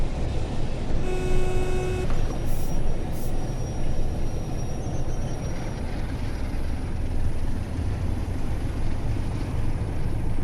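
A Class 47 diesel locomotive in a train simulator game rumbles steadily while braking, a loud continuous low drone with a brief tonal whine and faint squeal early on, no voices.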